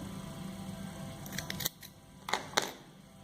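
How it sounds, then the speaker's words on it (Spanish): Scissors snip crochet yarn on a granny square with a daisy flower, giving a few quick, crisp metallic cuts close by, about two in a row and then two more, over a faint steady background hum. "Cortamos el hilo"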